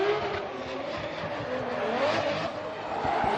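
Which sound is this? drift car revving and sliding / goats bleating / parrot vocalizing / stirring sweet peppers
drift car revving and sliding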